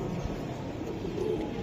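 Giribaz racing pigeons cooing: soft, low, repeated coos from birds close by over a faint steady background.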